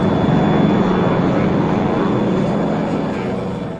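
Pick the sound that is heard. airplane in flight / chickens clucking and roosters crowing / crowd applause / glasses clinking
airplane in flight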